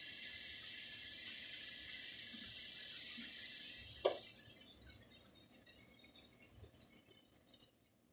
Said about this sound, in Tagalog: Saka lagyan natin ng isang ganito din na tubig.